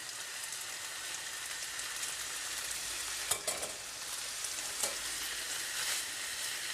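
Rice, fish and other kedgeree ingredients fry in a pan with a steady soft sizzle, while a few short scraping clicks from stirring stand out near the middle.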